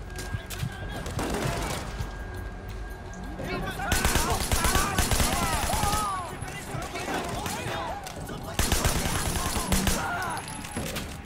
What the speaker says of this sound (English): just firing short bursts, and we're gonna get better accuracy